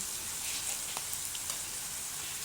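Ox tongue sautéing with white onion and garlic in a pan, a steady soft sizzle with faint scattered pops, continuous and even throughout.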